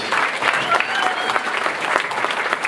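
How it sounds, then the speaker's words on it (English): Banquet audience at a Houston County awards dinner breaks into loud, sustained applause, many hands clapping densely and close throughout. "Give yourselves a round of applause."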